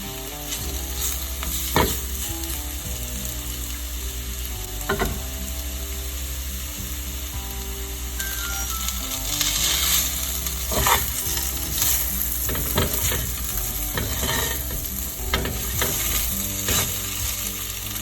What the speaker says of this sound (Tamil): நல்லா ஸ்லோ ரோஸ்ட் பண்ணுங்க